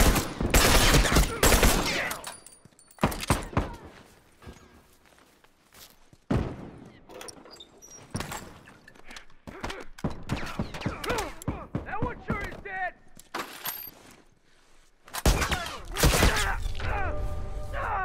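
Bursts of automatic gunfire in The Last of Us Factions multiplayer match, loud rapid volleys in several clusters separated by quieter stretches, with footsteps and occasional voices mixed in.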